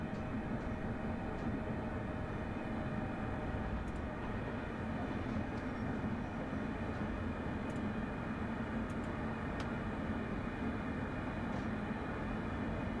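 An electric multiple unit train slowing on the late-night Glasgow to Dunblane line, a steady interior rumble and hum with faint clicks from the wheels, continuous and fairly loud throughout.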